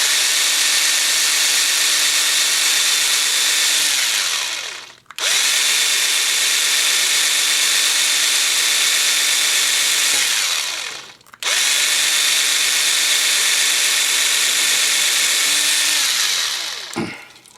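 A cheap, quiet electric drill bores a pilot hole in a Hot Wheels car, whining steadily at close range in three long runs separated by brief stops.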